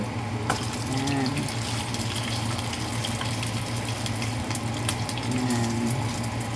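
Siomai fry in a pan with a little cooking oil, giving a steady, close hissing sizzle with scattered crackles over a low constant hum.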